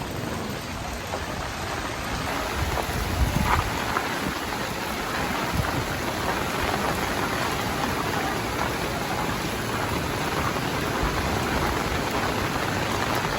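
Heavy, steady rain from a typhoon pours down in a constant dense hiss, drumming on surfaces close by, with a low rumble rolling underneath.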